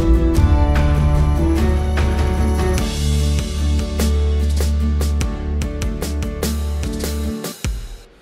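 A full music track plays with acoustic drums, bass and tambourine layered into a drum transition, rhythmic hits cutting through the dense mix before it drops off abruptly at the end.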